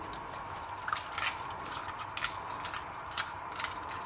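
Dry pasta from a soup mix is stirred into simmering vegetable soup in a pot, giving soft wet clicks and liquid slurps at an irregular rhythm over a steady low bubbling hiss, close and fairly quiet.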